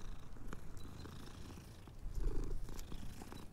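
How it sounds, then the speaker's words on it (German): A cat purrs steadily in Hogwarts Legacy, a low continuous rumble that sits close and fairly quiet for a few seconds, with soft game ambience underneath. "Oh, Katze."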